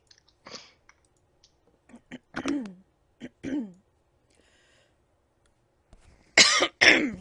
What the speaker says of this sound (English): Sorry for the coughing, everybody.